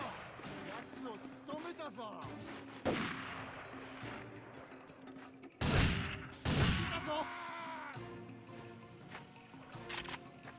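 Tactical sniper rifle gunfire from the James Bond 007: Nightfire video game, heard as a few sharp, loud broadband shots cracking out midway through amid game sounds, with someone talking over them.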